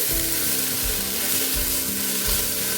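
Field beans and eggplant pieces fry in hot oil, a dense, loud, continuous sizzle with a steady crackle right up close.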